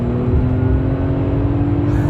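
A straight-piped RennTech Mercedes S65 AMG coupe engine holds a steady high-rev drone on a dyno, loud, harsh and unmuffled, with a faint voice underneath.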